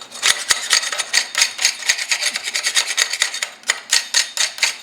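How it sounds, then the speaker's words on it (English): Slag chipped off plasma-cut steel parts for a motor grader ripper, a steady run of sharp metallic scraping and rasping strokes with occasional harder knocks, close and loud, with no talk. "that's why we're chipping it off"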